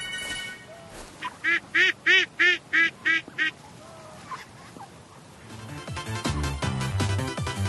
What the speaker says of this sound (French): est-ce que tu pourrais m'enregistrer un cri de canard s'il te plaît?